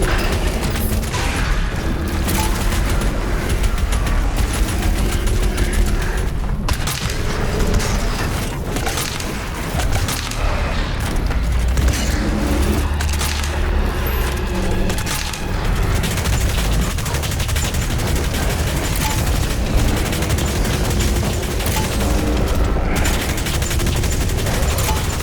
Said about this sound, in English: you have the micro missiles, which basically just gives you a missile barrage from an automatic weapon